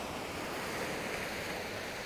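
Ocean waves wash steadily onto a beach during an outdoor engagement photo shoot, a continuous broad rush of surf with some wind noise, fairly close and even in level with no talking.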